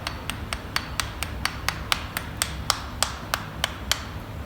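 An Allen key sharply taps to knock acrylic off a dental flask: about sixteen crisp, evenly spaced metallic clicks, close and fairly quiet, over a faint low background.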